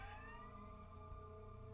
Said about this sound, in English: That is the sound of police sirens going off.